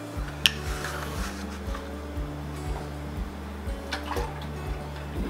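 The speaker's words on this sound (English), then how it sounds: "we're going to go ahead and pour our milk in" Milk, a full gallon, pours steadily from the jug into a cooking pot for homemade yogurt, a continuous liquid glug with rhythmic gurgling pulses and an occasional faint clink, nearby and with no talking.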